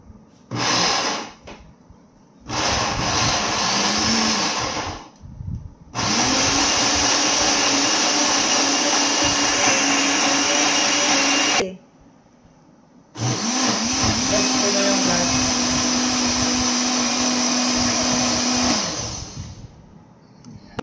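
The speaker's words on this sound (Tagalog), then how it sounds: "Unti-untiin natin guys para hindi mahirapan yung blender natin." A blender whirs loudly in several long bursts while making bugnay fruit juice, stopping and restarting, its pitch shifting as the load changes, with short quiet gaps between runs.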